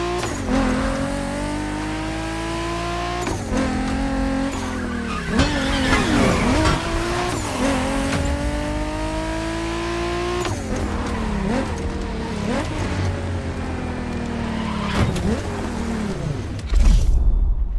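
A Dodge Challenger SRT Cross Country Edition races in Crew Motorfest, its engine revving hard through repeated rising gear pulls with shifts in between, loud and close, with tire squeal mixed in.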